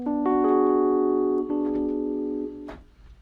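Minor sixth chords sounded in turn, each sustained and ringing before the next enters, with a clear steady tone and a gradual fade at the end, close and without speech.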